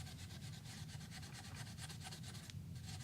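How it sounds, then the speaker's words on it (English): Soft abrasive pad rubbed along the grain of a wooden guitar fretboard, a faint, quick back-and-forth scrubbing with regular rhythmic strokes running steadily throughout. "This is kind of like a really soft sandpaper."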